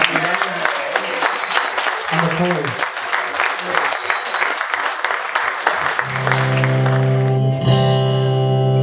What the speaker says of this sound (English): A round of applause for that lovely speech,